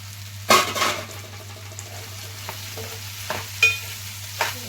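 Fried bitter gourd pieces tipped into a pan of thinly sliced tomatoes cooking for a Telugu bitter gourd pulusu, with a few short clattering, stirring bursts over a low steady hum.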